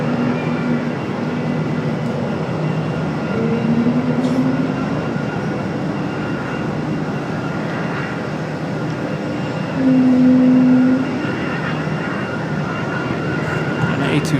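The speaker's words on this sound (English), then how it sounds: "A220 singing their song" An Air Canada Rouge Airbus A220 powers up for takeoff from runway 23 right at Raleigh Durham, its engines a steady broad roar with a faint whine rising over a long stretch, tonal hums drifting through.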